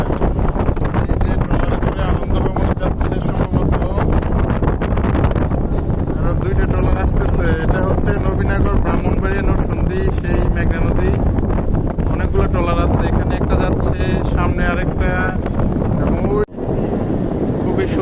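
A boat's engine drones loudly and continuously while travelling on the Meghna river, mixed with strong wind buffeting, and voices are heard beneath the roar.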